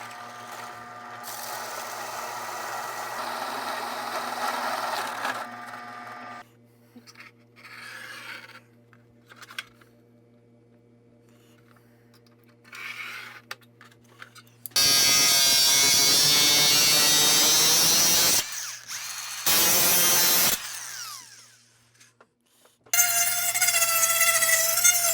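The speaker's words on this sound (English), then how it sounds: "I'm actually going to use the drill press, the hole saw, and the Dremel to basically make an elongated slot for our wires to fit through." A drill press with a hole saw and a Dremel cut through aluminum in close, loud bursts of grinding whine, with quieter humming gaps between the cuts and no voices.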